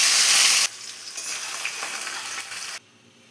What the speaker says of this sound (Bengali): তুলে মাছটা একটু হালকা ভেজে নেব